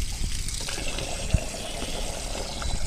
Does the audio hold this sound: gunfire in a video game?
no